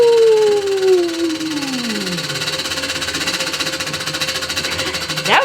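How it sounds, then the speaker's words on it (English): A prize wheel spun at a school event, its pointer clattering rapidly against the pegs in a fast, steady rattle that runs for several seconds, loud and close, over a falling whistle-like tone. "All right, Miss Dulovich, give that bad boy a nice spin"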